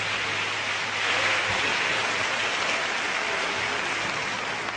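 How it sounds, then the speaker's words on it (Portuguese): A church congregation applauds together at a Pentecostal service, a steady, dense wash of clapping that fills the space from start to finish, with a faint low hum underneath. "Eu gostaria que você também aplaudisse ao Senhor pela vida dos servos de Deus"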